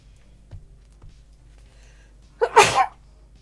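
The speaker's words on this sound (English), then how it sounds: "Oh, I'm gonna sneeze." A single loud sneeze bursts out close up after a quiet stretch with a faint low hum and a couple of soft sounds.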